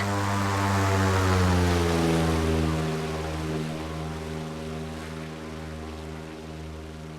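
Single-engine propeller airplane climbing at full throttle in a flight simulator game, a steady loud engine drone with strong harmonic tones that eases slightly in level partway through, no voices.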